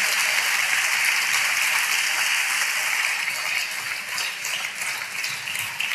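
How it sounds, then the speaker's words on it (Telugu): A church congregation claps loudly together in sustained, dense applause that fills the room evenly and stays strong throughout, with no voices rising above it. "చేతులెత్తి గట్టిగా అందరం చప్పట్లు కొడుతూ స్తోత్రాలు చెప్దాం"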